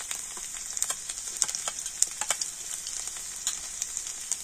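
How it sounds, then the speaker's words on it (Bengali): Chopped garlic and five-spice seeds sizzling in hot oil, a fine bright crackle with scattered sharp pops, fairly quiet and steady with no talking. "তেলের মধ্যে দিয়ে দেব 1/2 চামচ 5 ফোড়ন, দিয়ে দেব রসুন কোঁচা।"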